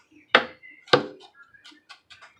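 Knife chopping vegetables on a board for pico de gallo, two sharp loud chops followed by a run of lighter, quicker cuts, close and clear with no talk.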